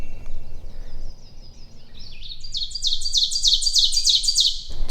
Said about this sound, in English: Two male wood thrushes chasing each other through the woods.